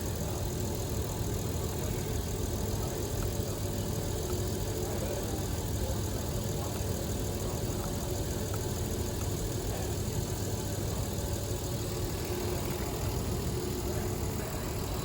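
A car engine idles steadily with a low, continuous rumble throughout, close by and fairly loud, with no talking.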